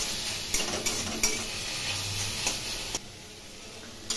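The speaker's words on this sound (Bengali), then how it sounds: "এবার বারবার নেড়ে নেড়ে এই শাক ভেজে নেব" Red amaranth greens frying with garlic in a pan, stirred over and over, give a soft, steady sizzle broken by light, repeated clicks and scrapes of the spatula against the pan.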